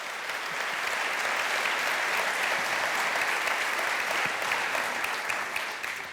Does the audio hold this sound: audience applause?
yes